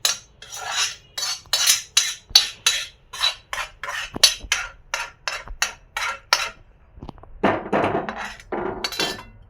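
Red-roasted coconut scraped from a kadhai onto a plate, a metal spatula making a quick series of sharp clinks and scrapes in steady rhythm, then a denser rough scraping at the end.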